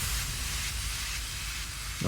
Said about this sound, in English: just a simple downlifter